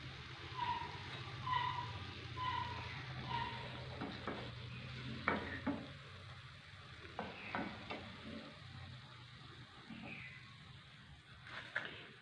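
Afghani nargisi cutlets of egg and potato, shaped like seekh kebabs, fry in oil with a steady soft sizzle, punctuated by occasional spatula scrapes and light clinks against the pan.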